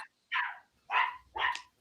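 Three sharp barks from a pet dog, spaced about half a second apart, fairly close and loud against a quiet background, with no talking over them.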